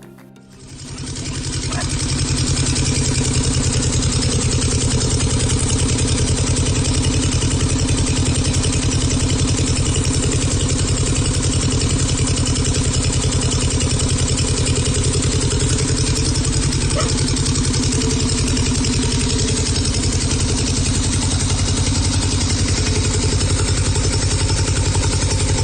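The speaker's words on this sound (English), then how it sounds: "we've just finished a rebuild of a 2-cylinder Volvo Penta marine engine," A rebuilt two-cylinder Volvo Penta marine engine runs continuously after starting, a loud, steady, dense mechanical clatter and drone close by with no pauses and no talk.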